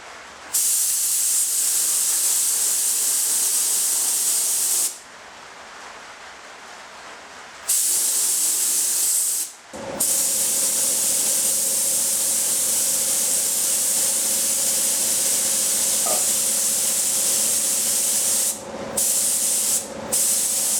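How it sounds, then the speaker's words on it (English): A paint spray gun sprays paint onto a Ford ZF Fairlane under restoration, a loud steady hiss running in long bursts with brief pauses between passes, alone with no voices. "Quick spray, I'm not going to put primer on it"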